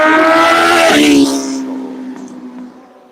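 A motorcycle roars past close by on a street, its pitch dropping sharply as it goes, then fading away into quiet.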